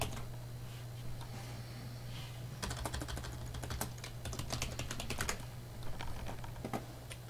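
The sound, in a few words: typing login and username on computer keyboard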